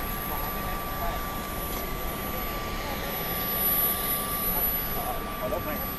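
An aircraft taking off for a traffic survey flight over Thai roads during the Songkran festival: a steady, loud broadband engine roar that fills the whole stretch with little change.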